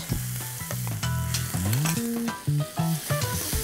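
Limp tomatoes with Recheado masala fry in a pan, a close, lively sizzle with stirring clatter, while a prominent, wavering tonal hum runs throughout.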